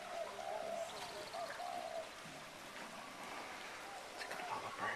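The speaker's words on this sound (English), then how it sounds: "Look at all the birds." Pigeons or doves coo in soft, repeated low calls among other chirping birds outdoors near water, with a faint steady background hiss.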